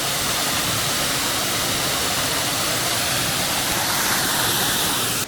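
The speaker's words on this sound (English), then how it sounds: "Waterfalls are soothing, I find." A waterfall in a botanical garden on Geoje Island roars loudly and steadily nearby, a dense, unbroken wash of falling water with no voices.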